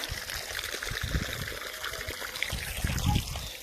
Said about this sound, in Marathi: नारळ झाडाला पाणी घालावलंय.